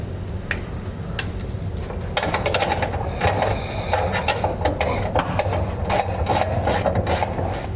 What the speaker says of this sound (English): We'll use a 3/4 inch socket and wrench.